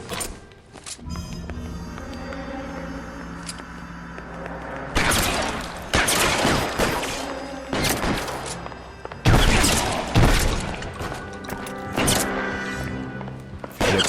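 Gunfire in the video game L.A. Noire: repeated loud gunshot bursts and impacts in irregular clusters over a steady game soundtrack, with a sharp burst near the end.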